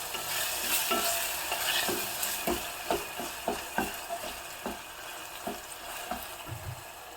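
Tomatoes cook with salt in a pan for a village-style rasam, with a soft steady sizzle broken by repeated sharp taps and scrapes of a spoon stirring against the pan.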